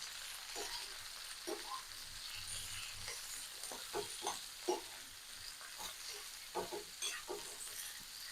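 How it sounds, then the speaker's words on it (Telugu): Ivy gourds frying in a pan give a steady low sizzle throughout, broken by repeated scraping stirs that come in short bursts, some close together, at a fairly quiet level. "దొండకాయలన్నీ వేసేసుకున్నా. దీన్ని ఒక్కసారి కలిపేసి"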